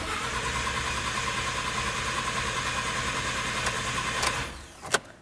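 A Ford F-150 engine cranks with a continuous churning whir that carries on for over four seconds, then cuts out and stalls, followed by a couple of sharp clicks.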